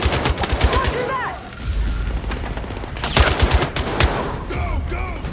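Machine gun fire in the Battlefield 6 campaign during a night raid: repeated rapid bursts of automatic fire, loud and close, with short gaps, game effects and brief voices mixed in.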